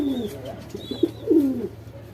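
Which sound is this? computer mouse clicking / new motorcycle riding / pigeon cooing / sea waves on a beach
pigeon cooing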